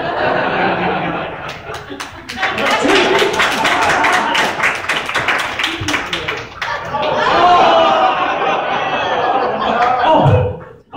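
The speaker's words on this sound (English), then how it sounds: "Let's hear it by applause if you want me to do it." Comedy club audience at the Loony Bin in Wichita, Kansas, bursting into loud, sustained clapping mixed with laughter and chatter, rising and falling in waves over several seconds before cutting off.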